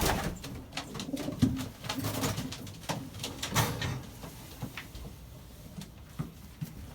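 Pigeon cooing with soft, low repeated coos over a busy background of clattering and rustling, probably in a loft with several birds nearby; no talking.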